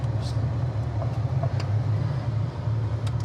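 A warmed-up 1971 Ford Mustang engine idles with a steady, low, rumbling hum. The sound stays close and even, with a faint hiss above it.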